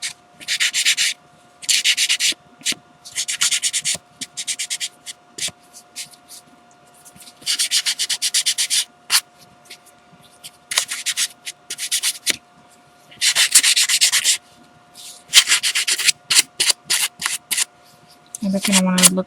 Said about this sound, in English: I have some sandpaper here. I'm going to kind of distress the edges a bit.